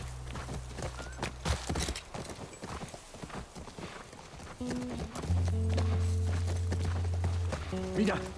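Horse hooves clop steadily in The Last of Us Part 1 as a horse walks near a ranch, with game music and voices talking over the hoofbeats.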